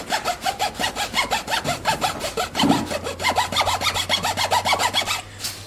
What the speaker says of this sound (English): I'm sawing off the ends of these